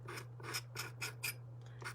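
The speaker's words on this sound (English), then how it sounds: "You can take a sanding block or the edge of a knife and just scrape along there a little bit" Tar paper strip edges scraped along a workbench edge for model detailing kits, a rhythmic series of short rasping strokes, close and fairly quiet, with no talking.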